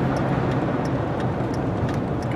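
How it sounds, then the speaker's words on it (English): A Ford Ranger truck with a failing pinion bearing makes a steady, loud droning rumble with a grinding whine, continuous and unbroken throughout. "It's a pretty good indicator that you have a pinion bearing going bad."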